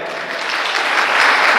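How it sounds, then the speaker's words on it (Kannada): An audience at a free business training session bursts into loud, steady applause, a dense wash of clapping that builds slightly over a short stretch with no talking on top. "ಜೋರಾಗಿ ಚಪ್ಪಾಳೆ"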